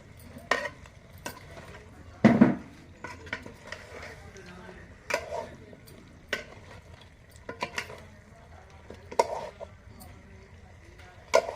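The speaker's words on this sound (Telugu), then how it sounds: "ముందుగా చేసుకొని ఉంచుకున్న మసాలా పొడి బాగా కలిపి" A spoon stirs masala powder through Andhra country chicken curry in a pot, giving repeated soft scrapes and clicks at an uneven rhythm, close and moderately loud, with a voice talking quietly alongside.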